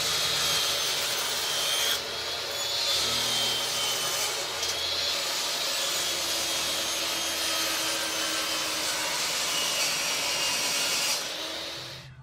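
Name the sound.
sawing a wood strip for guitar neck heel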